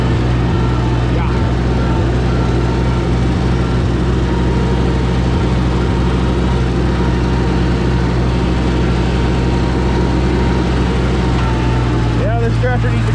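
A Minneapolis Moline G900 gas tractor engine runs loud and close in a steady, unbroken low drone that holds evenly throughout, with no clear pauses or changes in pace.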